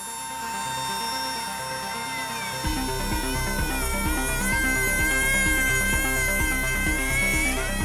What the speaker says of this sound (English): Andre has to drill into the bearing's mount to replace it.